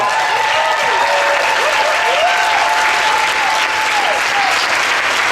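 Steady, sustained audience applause for contestants at a pun competition, filling the whole stretch, dense clapping with a faint high tonal line threading through, no clear voices above it.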